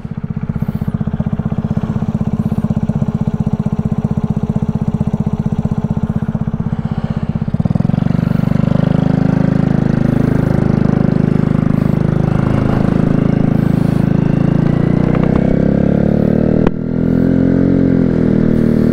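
A 2020 Amstar Nostalgia 50cc automatic scooter engine drones steadily while being ridden, a loud, close buzzing hum that rises in pitch as it gains speed partway through.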